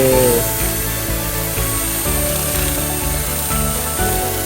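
A CNC machine carving wood runs slowly, giving a loud continuous tonal whine with a regular pulsing, grinding texture close by.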